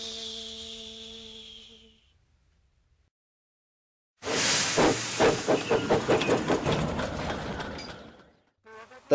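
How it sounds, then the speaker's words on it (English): A steam whistle sounds, falls silent, then loud bursts of hissing steam pulse rhythmically from a nearby steam locomotive, ending in a final sharp blast. "In a burst of steam, Gordon was off."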